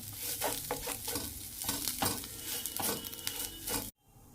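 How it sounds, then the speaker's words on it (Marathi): Grated coconut dry-roasting in a pan over a low flame, with repeated scraping stirs and a soft sizzle, close and busy before cutting off abruptly near the end. "खोबऱ्याचं किसन तो पण मस्त मंद आचेवर भाजून घ्यायचा"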